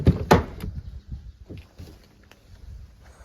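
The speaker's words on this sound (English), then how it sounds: "Just listen to the door." A 2007 Chevrolet Suburban door thunks open with a couple of heavy clunks, then quieter rattles and creaks of the hinge follow, close by and without talk.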